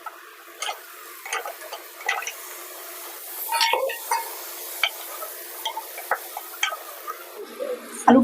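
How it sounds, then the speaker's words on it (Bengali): Washed, cut potatoes tipped into a pan of hot oil and stirred, scattered scraping and clinks over a soft sizzle, close up with no talking. "দিয়ে দেবো এবার এর মধ্যে ধুয়ে কেটে রাখা আলুগুলো"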